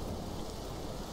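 Steady rain hiss from the game Colin McRae Rally 2005 on a wet asphalt stage, a continuous broadband wash filling the whole moment with no other sounds standing out.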